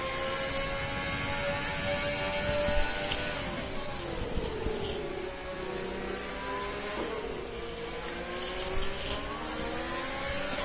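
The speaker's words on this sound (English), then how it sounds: "This is incredible to see 2 or 3 Formula 1 cars going through there, following each other around." Formula 1 cars in a Monaco esports race sim, engines whining and shifting pitch as several cars follow each other closely through the street circuit, steady and loud throughout.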